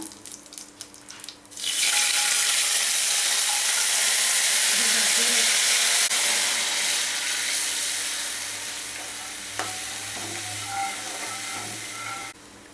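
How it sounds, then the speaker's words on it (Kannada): Tamarind juice poured into a hot spice tempering for a fresh ginger gojju: a burst of loud, close, rushing sizzle that starts abruptly, stays strong, then eases slightly, with no one speaking. "ಈಗ ಮೊದಲು ಒಗ್ಗರಣೆ ಆದಮೇಲೆ ಹುಣಸೆಹಣ್ಣು ರಸ ಹಾಕ್ಕೊಳ್ಳೋಣ"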